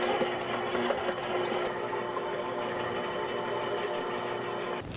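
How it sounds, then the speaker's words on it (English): A stand mixer beats about four sticks of room-temperature butter for buttercream, producing a steady, loud, continuous motor whir and rattle that holds unchanged throughout with no talking. "And we're going to mix it in the stand mixer here for"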